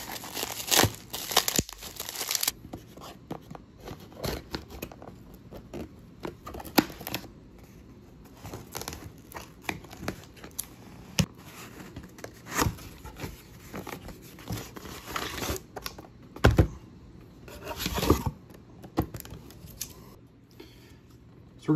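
Boxes of graded trading cards are opened, giving close, irregular crinkling and rustling of packaging with sharp tearing bursts and handling noises scattered throughout.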